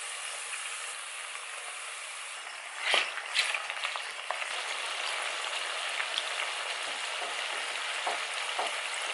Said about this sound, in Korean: 이렇게 마늘이 노릇노릇하게 익어가면 새우 넣어주세요.